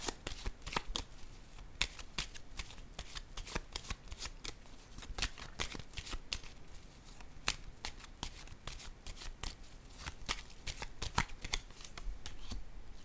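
Tarot cards are shuffled and laid down close by, a quiet, continuous run of rapid riffling flicks and soft slaps of card stock, with no voice over them.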